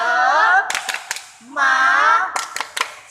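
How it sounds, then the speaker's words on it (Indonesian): Children at a parish faith class in Balikpapan do a cheer clap: two bursts of sung chanting, each followed by several sharp, near claps in a quick, uneven rhythm. "kita tepuk semangat dulu ya"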